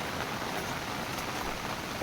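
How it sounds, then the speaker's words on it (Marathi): Steady rain falling in a village, a soft continuous patter and hiss that holds evenly throughout with no voices or other sounds. "कसं वाटतंय पावसामध्ये मस्त वाटतंय ना"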